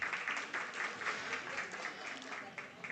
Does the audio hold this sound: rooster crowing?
no